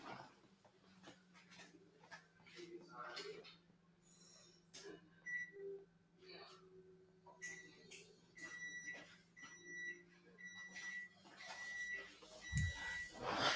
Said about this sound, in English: let me cut my oven off real quick. It's gonna keep beeping.